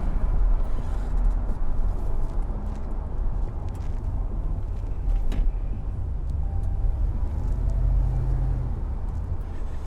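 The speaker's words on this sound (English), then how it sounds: "You can hear the supercharger." A 2001 Ford Lightning SVT pickup driving with its supercharger running, heard from inside the cab as a steady, loud engine and road rumble under a faint whine that holds throughout.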